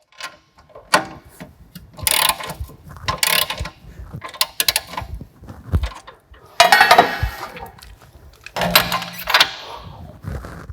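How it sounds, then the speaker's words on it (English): A hand tool pre-tensions the bolt of a newly installed shock absorber, with repeated metallic ratcheting clicks and clanks in short bursts and pauses, heard close. "The bolt is not yet fixed, and I will now pre-tension it."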